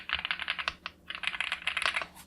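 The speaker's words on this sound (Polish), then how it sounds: "Przełączniki działają mniej więcej tak. Przyjemny klik, dość głośny, ale wyrazista odpowiedź przycisku," Switches on a Lorgar gaming keyboard click in rapid, crisp strokes, a close and fairly loud clatter of typing with a brief pause midway before resuming.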